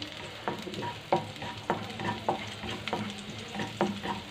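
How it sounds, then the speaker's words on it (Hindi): Chopped garlic and vegetables stir-fry in hot oil in a pan, sizzling steadily while a utensil scrapes and stirs in repeated sharp strokes about every half second, close up with no talking. "मैंने पैन में ऑयल डाला है और उसमें ये मैं चॉप किए हुए लहसुन डालूंगी और इसे बिल्कुल हल्का सा फ्राई करूंगी"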